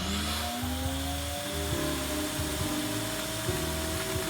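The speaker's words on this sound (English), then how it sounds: "we now place the vacuum arm on the record, and the vacuum will automatically start" A Nessie Vinylmaster record cleaner's vacuum arm hums steadily, with a motor drone and rhythmic pulsing as it sucks cleaning fluid off a spinning vinyl record, close up and alone.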